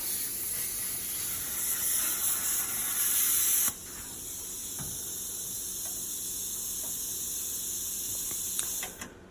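A plasma cutter slices through the floor pan of a Dodge Dart with a loud, steady hiss, which drops to a quieter continuous hiss partway through and carries on with faint clicks before cutting off.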